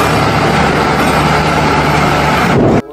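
A toy forklift gives off a loud, steady engine-like drone for a few seconds before cutting out abruptly.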